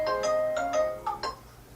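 A mobile phone rings close by with a short melodic electronic ringtone of several quick bright notes that then fade out, with no talking.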